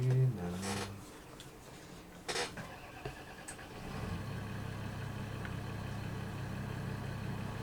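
Tractor engine idling in a farming video game, a steady low hum that settles in after a brief burst of louder noise, running continuously at moderate level.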